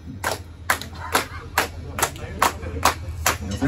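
An audience at a music festival clapping along in rhythm, sharp regular claps landing about twice a second, close and fairly loud.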